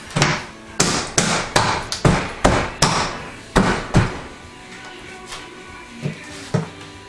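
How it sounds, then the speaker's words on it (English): A plastic homebrew fermenter bucket lid is pressed and snapped into place in a series of sharp, close thumps and clacks, about a dozen firm hits in quick rhythm that grow sparser toward the end. "Snap our lid on."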